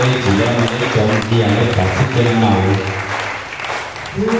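A church congregation applauds at a Pentecost Sunday service, with sustained clapping over loud singing or chanting voices throughout.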